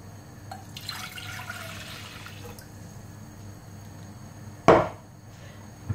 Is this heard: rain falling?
no